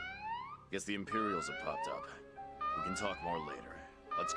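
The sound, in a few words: alarm siren in the video game Valkyria Chronicles 4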